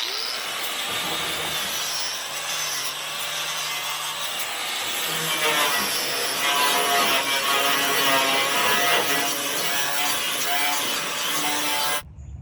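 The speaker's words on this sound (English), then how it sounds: "I think the wire cup on the grinder is going to be the best bet" An angle grinder fitted with a wire cup brush scrubs an old metal glider frame, a steady, loud abrasive rasp and whine that holds for about twelve seconds before cutting off abruptly.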